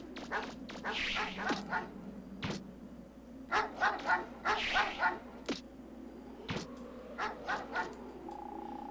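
Several dogs bark repeatedly in the video game Mega Man Legends, a run of sharp yips and bow-wows in bursts across the whole stretch, fairly close over a steady game background hum.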